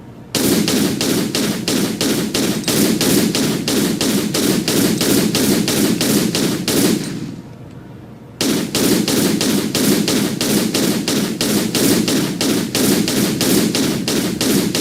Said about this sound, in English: you can also shoot the crocodiles